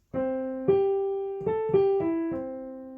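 A piano plays a short right-hand melody for a choir vocal warm-up drill, single sustained notes struck one after another in a slow, even line, close and clear with no talking.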